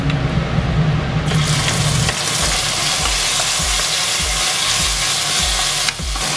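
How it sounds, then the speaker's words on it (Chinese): Shrimp stir-fried in about 30 grams of oil in a wok for kung pao shrimp balls: a loud, close, constant sizzle from start to finish, with a run of regular scraping stirs of the spatula through the second half. "锅中留30克的油，开始炒虾仁儿"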